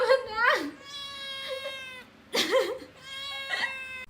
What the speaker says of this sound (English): This person walked into their room and found their cat stuck between 2 curtains.